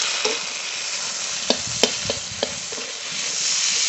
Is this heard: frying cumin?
yes